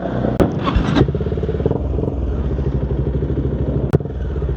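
A Dominar 400 UG motorcycle engine idles and putters close by with a steady throbbing rhythm, broken by a couple of sharp clicks or clanks.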